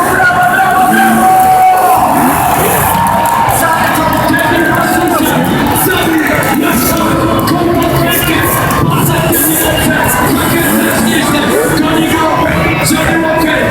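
A packed indoor crowd at the SuperEnduro World Championship race in Kraków's Tauron Arena roars and claps without let-up, mixed with revving motorcycle engines. The din stays loud and dense throughout.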